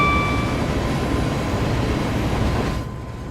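A Class 66 diesel locomotive in Train Sim World 3 hauling intermodal container wagons on a UK route, a loud continuous rumbling roll with steady wheel and engine noise and faint high whine, dropping in level at the end.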